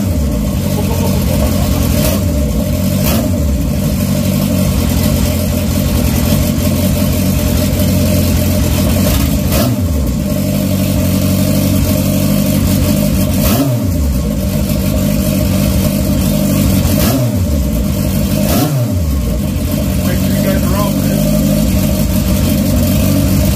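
A 1978 Honda CB750 Turbo motorcycle engine idles low and steady with several sharp throttle blips that rise and fall, loud and close throughout, with no talking.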